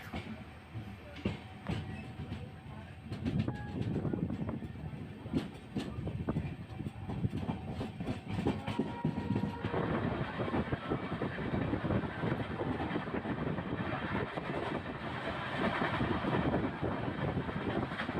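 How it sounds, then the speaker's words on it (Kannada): Riding aboard the Mysuru-Shirdi Express as it passes Ajjampura station at over 120 km/h, a loud, continuous rolling roar of wheels and carriage that grows rougher and denser partway through, with no talk. "ಈಗ ಅಜ್ಜಂಪುರ ರೈಲ್ವೆ ಸ್ಟೇಷನ್ನ ನೂರಿಪ್ಪತ್ತು ಪ್ಲಸ್ಸಲ್ಲಿ ಸ್ಕಿಪ್ ಮಾಡ್ತಿದೆ ನಮ್ಮ ಟ್ರೈನು"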